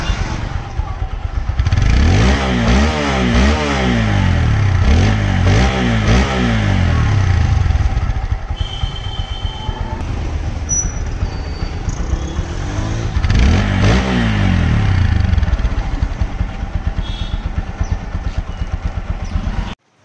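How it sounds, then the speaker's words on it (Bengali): A blue second-hand Apache RTR 160 4V motorcycle with about 2,900 km on it, its engine revved up twice in loud close bursts with idling between, steady and continuous throughout. "দেখতে পেলেন বাইকের সাউন্ড কিন্তু টোটালি ফ্রেশ আছে।"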